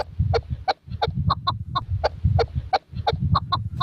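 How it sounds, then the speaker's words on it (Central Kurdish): Chukar partridges call near a snowy mountain village in Bradost, giving a rapid, rhythmic series of sharp clucking notes, close and fairly loud over a low background murmur. "سەدان کەو لە ناوچە شاخاویەکان کۆچیان کردووە و هاتوونەتە نزیک گوند و ئاوایەکان بۆ ئەوەی خۆراکیان دەست بکەوێت"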